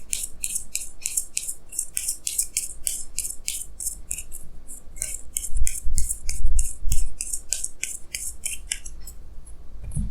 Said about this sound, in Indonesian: Jadi sini saya akan tarik lagi 2 kartu tambahan,